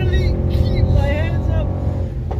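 A 2019 Mercedes-AMG GT four-door coupe drones loudly with a deep, steady engine note as it runs at speed on a race track, while someone talks over it.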